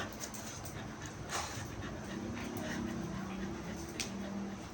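Several pet dogs, aspin and shih tzu, pant steadily at night, with occasional soft whimpers and whines rising above the continuous close breathing.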